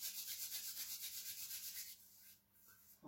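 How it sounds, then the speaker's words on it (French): Palms rub together in a steady back-and-forth swish during a yoga session, about a dozen soft rhythmic strokes for two seconds before they slow and fade, with no talking. "On frotte un peu les mains ensemble."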